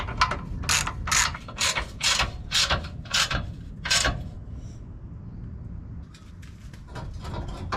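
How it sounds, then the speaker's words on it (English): Four bolts are wound out of a cross member bracket on a Toyota Landcruiser VDJ79 during sidestep fitting, giving a run of close, loud ratcheting clicks in bursts, then quieter scattered mechanical rattles. "We're taking the 4 bolts out."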